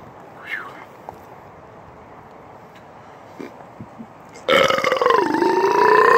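After chugging two liters of Ruby Red Squirt soda, a man lets out one long, loud, rumbling burp up close that lasts nearly two seconds, following a few seconds of quiet breathing and small mouth noises.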